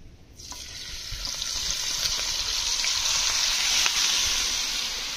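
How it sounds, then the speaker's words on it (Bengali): Marinated meat dropped into hot oil left over from frying potatoes, bursting into a loud, steady hiss that starts abruptly and holds close and strong to the end, with no voices. "এই যে ম্যারিনেশন করে রাখা মাংস আর যে আলু ভাজাতে তেল ছিল, ওই তেলের ভিতরে দিয়ে দেওয়া হয়েছে"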